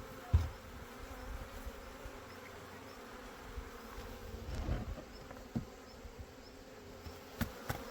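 A honeybee swarm moving into a hive after being gently guided with a smoker outdoors, giving a steady low buzzing drone throughout with a few soft knocks and bumps, fairly quiet and with no talking.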